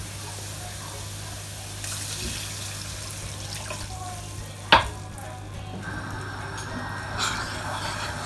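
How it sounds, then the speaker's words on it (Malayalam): Water is poured into a pan of frying carrots for upma, and the steady sizzle rushes and bubbles as the water hits the hot pan, with a sharp clank partway through. "ഇനി ഇതിലോട്ടേക്ക് നമുക്ക് വെള്ളം ചേർത്ത് കൊടുക്കാം."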